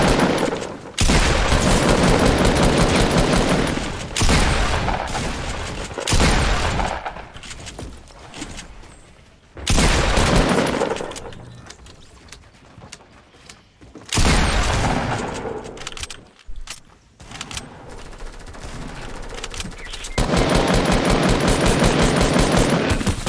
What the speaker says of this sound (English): my second shotgun shot hit him for 8.